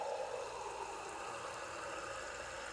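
Two cups of water stream into a cooking pot alongside chicken broth, a short, steady hiss of pouring liquid heard close and alone at moderate volume.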